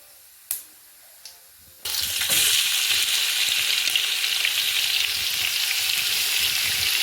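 Onions sautéing in a pan for biryani: after a couple of faint knocks, a loud hissing sizzle bursts in and continues steadily close up.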